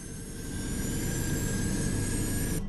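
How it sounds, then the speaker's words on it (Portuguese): An airliner taking off at full engine power, a loud, steady jet roar with a high whine that holds constant throughout, heard alone with no voices. "Decolagem a toda potência."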